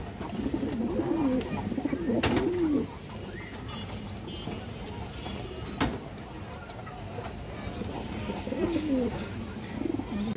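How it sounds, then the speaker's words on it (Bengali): A green-necked female pigeon coos close by in a pigeon loft, throaty rolling calls coming in a few bursts, broken by two sharp knocks and soft chirps in the background. "সবুজ গলা মাদি কবুতর"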